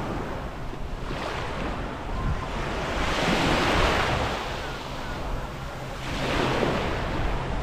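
Sea waves at Laiya, Batangas wash onto the beach in slow surges, each swell building into a broad rushing hiss then easing back, close and steady with some wind.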